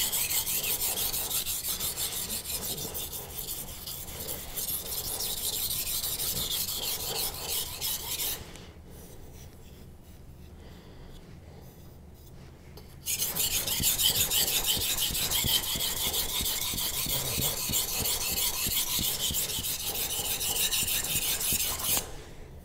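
A dull kitchen knife is ground on a 1000 grit Naniwa or Imanishi whetstone, long steady rasping strokes close up, pausing briefly in the middle before the scraping resumes, no talking.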